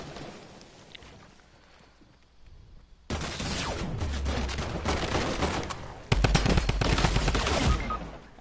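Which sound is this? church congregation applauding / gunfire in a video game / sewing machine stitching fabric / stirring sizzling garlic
gunfire in a video game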